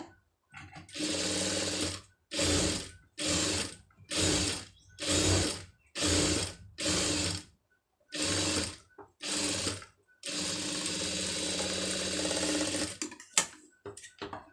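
A domestic sewing machine stitching a fabric puff sleeve runs in a dozen short bursts, loud and close, with brief silent pauses between most runs and one longer continuous stretch near the end.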